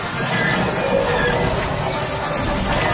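A loud, continuous rumble of a train-like ride vehicle on rails at Disney's Hollywood Studios theme park, with faint squealing wheels and a steady rushing roar throughout.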